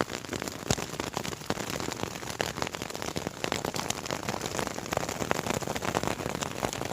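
Snow pellets pelt down at night along a Continental Divide crossing, a dense, even patter of tiny impacts forming a constant close hiss with no talk.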